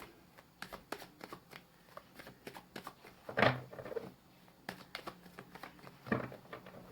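Tarot cards are shuffled and drawn in soft riffling patters and flicks, with a few sharper card snaps, quiet and close with no talking.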